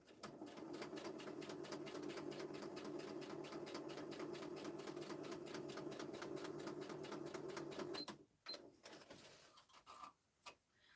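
Sewing machine stitching a straight line across a paper craft pocket for a desktop flip book, a steady rapid needle chatter running for about eight seconds, then stopping and leaving a few soft handling clicks and rustles.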